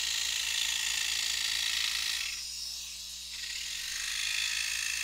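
Scroll saw cutting thick one-inch wood, a steady high buzzing whir with a low mechanical hum beneath, dipping briefly midway before resuming, alone and close.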